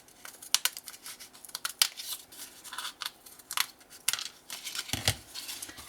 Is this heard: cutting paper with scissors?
yes